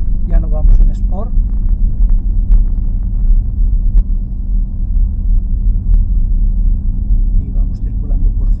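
A BMW XM plug-in hybrid SUV runs through city streets in hybrid mode, its deep, steady rumble continuous throughout, with a voice speaking briefly at the start.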